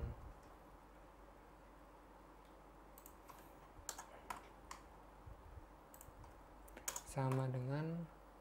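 Quiet, scattered clicks of keys on a computer keyboard, with small bursts of taps and a firmer press, before a voice briefly speaks at the end.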